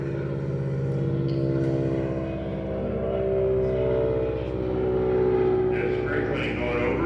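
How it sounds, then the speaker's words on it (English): An agricultural spray plane passes over a farm with its own airstrip, a steady loud propeller and engine drone that swells and fades slightly throughout. "There's spray plane going over,"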